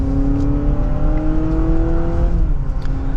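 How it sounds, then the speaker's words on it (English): A Honda CR-V Hybrid Sport Touring pulls away and accelerates, a steady loud cabin drone with rising, whining engine tones that climb smoothly and then dip slightly near the end. "And now setting off in the Honda"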